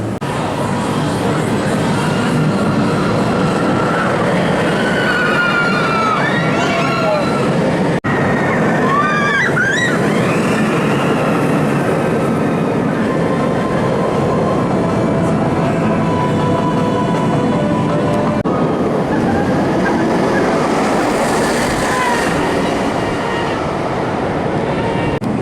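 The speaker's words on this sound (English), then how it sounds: "I'm going to start off with Galactica just over here, the B&M flying coaster" A B&M flying roller coaster, Galactica, at Alton Towers at night roars along its track, a loud continuous rumble with rattling and distant screams swelling and fading over a long stretch.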